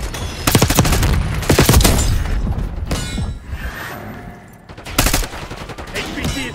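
Rapid automatic gunfire in Call of Duty: Black Ops 6 multiplayer, loud close bursts of shots with a pause midway, mixed with mechanical clatter and an occasional in-game voice.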